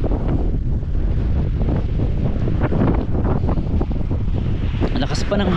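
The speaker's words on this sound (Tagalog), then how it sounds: "Lakas pa ng hangin, ang lamig." Strong, cold wind buffets the microphone outdoors as someone travels, a loud, constant roar with gusty rumbling throughout.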